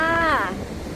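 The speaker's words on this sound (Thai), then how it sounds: "จะได้ยินไหมนี่ ลมแรงเกินนะคะ" Strong wind blows across a seaside beach strewn with bluebottle jellyfish, a steady broadband rush with low rumble that continues after a brief voice at the start.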